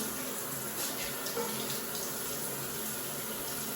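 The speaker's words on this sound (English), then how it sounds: "I press the button on the wall to start the water and press it to stop" Water running steadily from a push-button faucet at a campground washroom, a constant close hiss and splash lasting throughout with no talking.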